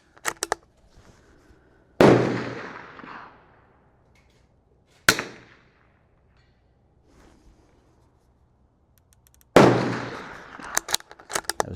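Three sharp shots from a Bergara BMR-X .22 LR rimfire rifle, loud and close, spaced several seconds apart, each cracking out and trailing off in a short echo, with faint handling clicks in between.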